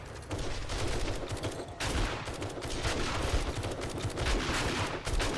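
Sustained automatic gunfire in the survival game 7 Days to Die, a dense, loud, continuous rattle of shots with a brief break near the start, no voices.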